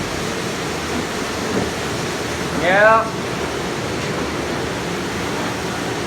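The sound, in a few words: commercial dishwasher running with water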